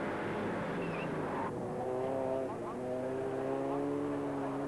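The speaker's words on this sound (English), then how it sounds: "All horsepower from the two cars in front of him as they set off now after the leader, Dave Pinkney." Racing cars in a 1990 Silverstone Group N race pull away with engines roaring at full throttle, a steady loud drone of several cars rising in pitch as they accelerate, with a commentator talking over them.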